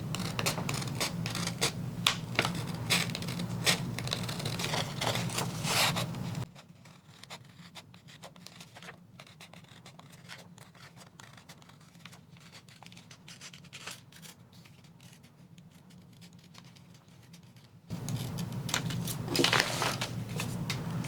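Scissors cut around printed sublimation designs in a run of close, crisp snips and paper rustles, which drop to a quieter stretch in the middle before the louder cutting resumes.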